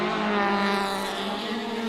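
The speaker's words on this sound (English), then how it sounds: "It was just so beautiful to hear that BDA. One of the iconic sounds of rallying all around the world" A historic rally car with a Ford BDA engine, on a special stage of the Rally of Otago in New Zealand, revs hard with a loud, sustained high-pitched engine note that holds steady and close throughout.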